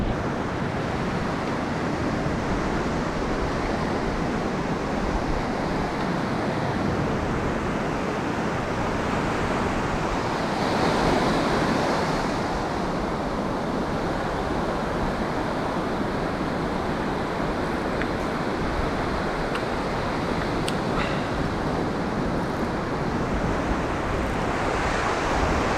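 Sea waves break steadily over a sandbar along a UK fishing shore, a dense, unbroken roar of surf that swells slightly midway and runs on without any voices.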